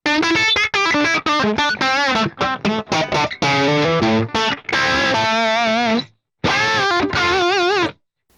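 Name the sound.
electric guitar through medium gain amp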